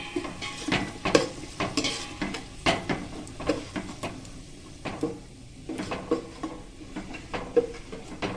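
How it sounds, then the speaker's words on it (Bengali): Basanti pulao with freshly added garam masala is stirred in a pan on the stove, with gentle sizzling under repeated scraping and clinking of the spoon against the pan in an uneven rhythm, close and moderately quiet. "এটা দিয়ে অল্প একটু নাড়বো।"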